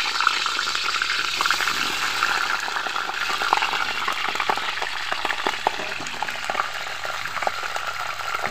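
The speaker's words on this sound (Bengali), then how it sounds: "এখন সবজিগুলোকে ভালোভাবে ভেজে নেব।" Vegetables frying in mustard oil in a kadai make a dense, even bubbling sizzle with small pops, close and continuous, with no talking.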